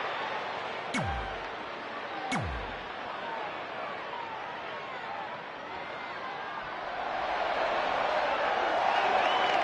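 Steady, hissing roar of a wrestling arena crowd in the video game WWE 2K20, with two quick swooshes early on and the crowd noise swelling toward the end.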